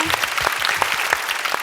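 Audience applause breaks out, steady dense clapping from a crowd that keeps going at an even level through the whole stretch, moderately close and unbroken by talk.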